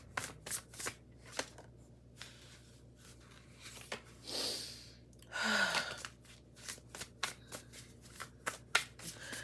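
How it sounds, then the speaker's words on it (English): Oracle cards being shuffled by hand at close range, a run of crisp riffles and soft flutters with a couple of longer sliding shuffles in the middle, no voices. "let's pull out an oracle card for Libra"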